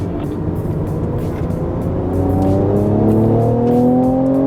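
A Mercedes-AMG C43 accelerates at full throttle on the Sepang circuit at night, engine note climbing steadily through rising harmonics and getting louder toward the end, heard from inside the car with no talk.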